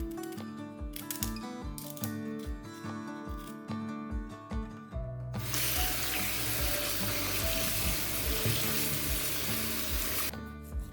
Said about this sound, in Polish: zalewamy zimną wodą